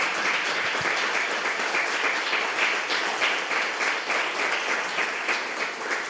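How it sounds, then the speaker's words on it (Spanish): A church congregation applauds loudly and steadily, a dense wash of many hands clapping together throughout. "yo le invito a que le dé un aplauso fuerte a Dios por su amor"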